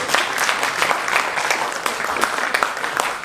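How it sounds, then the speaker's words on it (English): Crowd at a boxing press conference claps together, a dense, loud burst of applause from the seated audience with no talking over it. "I think we deserve to give Frank Warren a clap."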